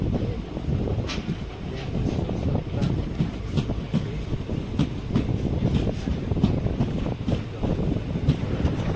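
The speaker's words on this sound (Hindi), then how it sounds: "यहाँ से भी हमारी ट्रेन बिल्कुल ऑन टाइम ही निकल चुकी है" An Indian Railways passenger train running between Rameshwaram and Chennai Egmore, a loud steady rumble of wheels on track with rhythmic clatter and wind noise throughout, heard from on board.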